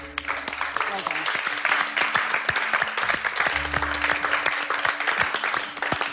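On a TV baking competition, bakers receive a round of dense, sustained clapping, close and loud, while people talk and cheer over it.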